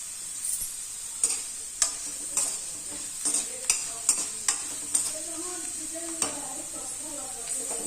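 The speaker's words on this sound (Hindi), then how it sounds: "आलू को छोटा छोटा पतला पतला पीस में काट के तेल में डाल देंगे और लाल के होते तक तलेंगे" Thin potato slices frying in hot oil, a steady close sizzle broken by repeated scraping stirs of a spatula in the pan, for a Chhattisgarh-style bhindi aloo bhujia.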